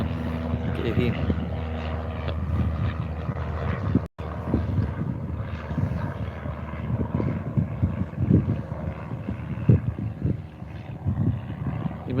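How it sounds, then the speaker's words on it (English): A propeller airplane takes off from a runway at Moorabbin Airport, its engine drone a steady, fairly distant roar. Wind buffets the microphone throughout. "that plane that just took off then was the closest to us"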